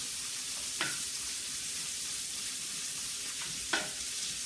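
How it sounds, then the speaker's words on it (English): A small onion sautés in a very hot cast iron pan with leftover ham cooking, a steady soft sizzle broken by two brief stirring scrapes. "Saute that up."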